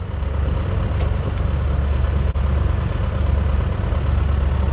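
A cold tractor engine idles steadily while warming up in a farm pasture, a close, continuous low rumble with an even, rapid pulsing and no pauses or talk.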